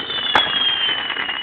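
Fireworks going off outdoors as one sharp, loud burst about a third of the way in, over a steady high hiss and background crowd noise.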